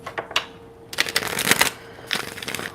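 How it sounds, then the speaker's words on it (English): Tarot cards are shuffled by hand in quick riffling bursts, a few short flicks followed by two longer rustling runs, close and clear with no talking. "we'll do one more shuffle"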